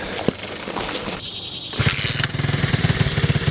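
A seized TAO pit bike engine, freshly revived, runs close by with a buzzy, raspy drone, dipping briefly before settling into a steady rough idle.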